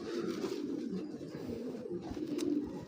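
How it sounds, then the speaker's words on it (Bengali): Female Giribaz racing pigeon cooing, a soft continuous low murmur held close throughout with slight swells, no talking over it. "মাশাআল্লাহ মাদি কবুতর ভাই এটা"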